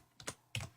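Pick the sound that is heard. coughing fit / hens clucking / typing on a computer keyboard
typing on a computer keyboard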